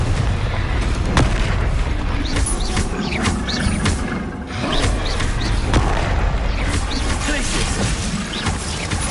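In the video game Wizard Simulator, Confringo explosion spells go off as dense, continuous booming blasts and crashes, loud and overlapping without pause.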